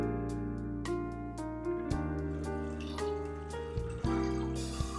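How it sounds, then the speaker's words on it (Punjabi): Water runs from a tap into a pan for a homemade jelly fruit cake, a steady close splashing stream with faint clinks of the vessel, heard alone over soft background music. "ਹੁਣ ਆਪਾਂ ਇਹਦੇ ਵਿੱਚ ਪਾਣੀ ਪਾ ਲੈਂਦੇ ਹਾਂ"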